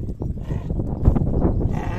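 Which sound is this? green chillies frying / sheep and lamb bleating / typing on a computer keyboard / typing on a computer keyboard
sheep and lamb bleating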